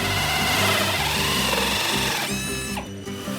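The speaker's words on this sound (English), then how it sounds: "Can you hear the sound of the drill making the plug hole?" A steady, loud mechanical whirr of a drill boring a plug hole through a bath, continuous and close, ending in a brief higher-pitched whine as it breaks through.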